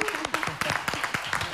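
An audience applauds at an informal breakfast event with an LGBTQI+ band, a short burst of dense, rapid clapping close by, with talk mixed in.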